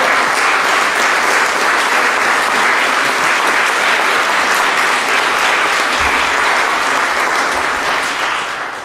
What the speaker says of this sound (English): I want you to give a special round of applause to Bill Henderson and our crew